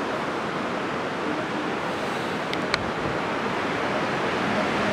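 Steady broadband wash of surf rolling onto Kuta Beach in Bali, a continuous even roar without distinct breaks, with a brief faint tick near the middle.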